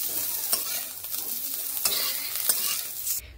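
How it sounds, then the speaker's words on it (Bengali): Drumstick (moringa) pieces frying in oil in a pan, close and steady sizzling with occasional stirring scrapes, no talk. "একটু তেল দিয়ে ভেজে নিতে হবে। সজনে ডাঁটাগুলো ভাজা হয়ে গেছে"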